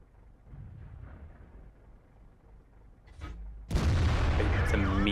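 A tank cannon shell from World of Tanks slams into a Batjack, a sudden loud, broad blast that bursts in after a low rumbling lull and rings on, with a brief hiss just before impact.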